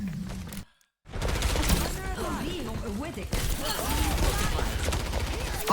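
Sprayed automatic gunfire in Overwatch, a continuous rattling fusillade mixed with game effects and chirping ability sounds, with someone talking over it after a brief drop to silence.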